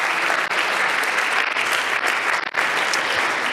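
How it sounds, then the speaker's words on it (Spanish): A church congregation applauding in praise, dense sustained clapping close and loud throughout with no pauses. "le damos un aplauso a nuestro Señor"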